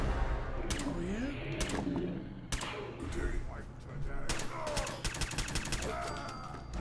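Gunfire in the Fallout 4 game: several sharp broadband shots, including a tight rapid burst near the end, cracking over a dense mix of game sounds and a speaking voice.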